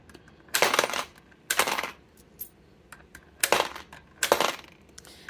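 Coins dropped and sorted while counting cash for budget envelopes, four distinct bursts of jingling metallic clinks, close and fairly loud, separated by short pauses.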